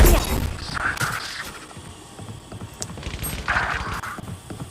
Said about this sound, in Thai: เสียงปืนดังทางขวา มีใครไหมแถวนี้